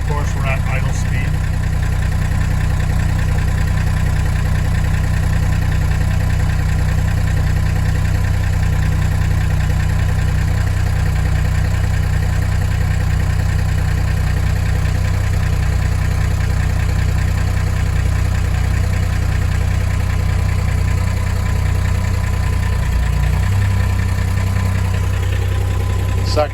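A Freightliner FLU419 military Unimog's engine idling close by, a loud, constant low diesel throb that holds steady for the whole stretch with no break.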